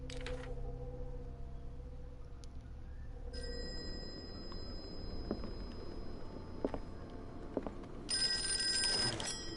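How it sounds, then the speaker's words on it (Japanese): In the video game Call of Cthulhu, a telephone rings over a low ambient hum with a bright, sustained electronic ring that starts partway through and swells louder near the end. "電話。"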